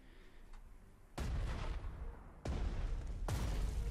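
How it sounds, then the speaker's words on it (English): Artillery in the strategy game Panzer Strategy fires in a quick series of heavy booms, three or so deep thuds each leaving a rumbling tail, loud and with no talk. "I'm gonna use regular artillery here."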